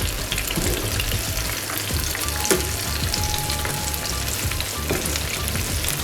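Pakoras sizzle and crackle steadily in hot oil in a home kitchen, a dense continuous frying hiss with occasional soft stirring clinks, close and fairly loud throughout with no talking.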